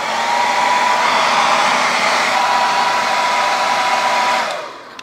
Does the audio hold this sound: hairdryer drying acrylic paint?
yes